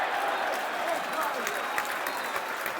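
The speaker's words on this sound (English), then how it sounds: "Hence the applause." Stadium crowd at a Millwall versus Bristol City football match applauds a drawn free kick, broad sustained clapping and crowd noise with a match commentator talking over it.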